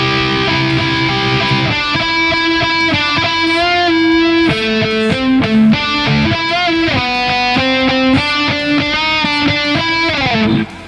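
A slow electric guitar solo from a song moves through a long line of distinct, evenly paced sustained notes with small bends, loud and up close without voices.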